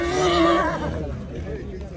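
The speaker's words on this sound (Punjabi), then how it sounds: "ਬਜਰੰਗ ਘੋੜਾ ਆ ਗਿਆ" A horse at the Mukatsar horse fair lets out a loud, close whinny at the start, then it tails off into crowd noise and people talking.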